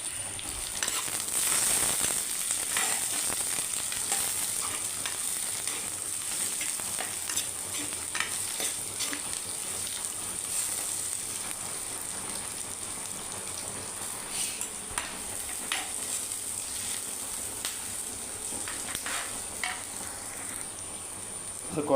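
Chopped onions stirred and sizzling in a hot pan while making a home-style fish curry, a steady frying crackle with scraping stir strokes throughout, close and continuous with no talking.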